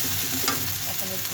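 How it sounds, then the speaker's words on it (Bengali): Garlic and ginger paste sizzles steadily in a hot pan while being stirred for a chicken and potato curry, a dense continuous hiss close by with a light scrape of the spoon. "রসুন বাটা আর আদা বাটা দিয়ে দিলাম, ভেজে নিই"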